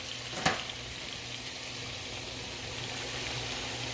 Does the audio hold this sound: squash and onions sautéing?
yes